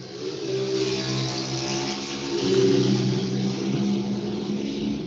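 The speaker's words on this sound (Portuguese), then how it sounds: "o pessoal passou disputando racha de moto aqui na minha rua" Motorcycles racing on a residential street roar past, engines revving and droning steadily with a swell in the middle as they pass, heard alone at moderate distance.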